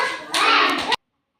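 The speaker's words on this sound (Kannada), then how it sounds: "ಎಲ್ಲ ಚಪ್ಪಾಳೆ ಹೊಡೀರಿ." Young children clap together briefly at a preschool centre in Mandya district, a short burst of hand claps after talk that stops abruptly.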